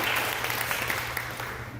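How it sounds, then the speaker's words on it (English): Audience applause at a speaking conference, a dense, even clapping from a large crowd that holds steady and slowly tapers, heard alone without voices. "Some applause for our crew."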